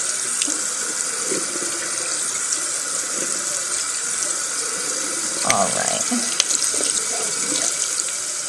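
Water runs continuously from a tap while a makeup brush is rinsed by hand, a steady close splashing rush with small shifts in the flow as the brush is moved beneath it.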